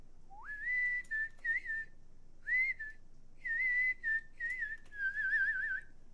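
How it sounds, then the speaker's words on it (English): A person whistles a bright, wavering melody in several separate phrases with short pauses between them. The tune is held close and clear against near silence, and the last phrase ends in a trill. "So is everyone jealous of my whistling?"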